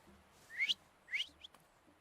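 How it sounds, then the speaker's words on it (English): A video game character whistles two short rising notes in quick succession, followed by a brief third chirp, faint and alone with no talking. "So, have you mastered whistling?"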